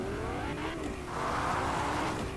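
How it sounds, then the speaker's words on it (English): A racing-style car engine in a video game roars loudly and steadily, its pitch swelling as it accelerates, with a brief dip before surging again. "this engine is noisy, so I'm going to limit my talking while I drive."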